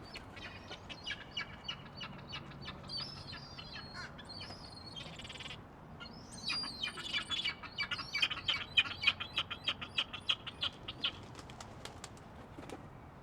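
A seagull calls repeatedly overhead, a string of quick squawks and chirps growing busier in the second half, moderately close with faint background noise.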